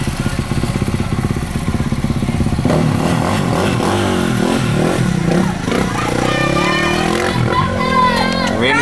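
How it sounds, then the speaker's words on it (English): Motorbikes at a primary school cross country race, engines buzzing and revving close by as they pass, with voices talking and cheering over the noise. "The motorbikes get in the mix."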